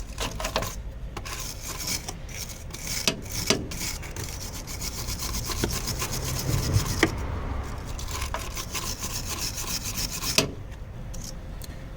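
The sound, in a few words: filing damaged threads on a Fiat 500 strut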